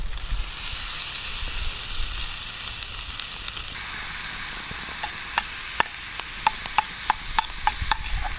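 Bacon frying outdoors for a simple dinner, a continuous close sizzle and hiss with a run of sharp crackles and pops growing more frequent toward the end, no voices.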